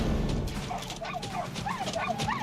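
In the video game Dragon's Dogma 2, a dog yips and barks in short bursts over a dense, continuous bed of game ambience and background noise, moderately loud.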